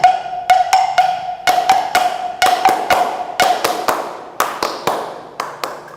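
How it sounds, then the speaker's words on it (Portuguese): Hand claps mark a capoeira rhythm in steady, crisp groups of beats, close and loud, over a sustained held tone in the first half. "Segura a palma aí, Nelson."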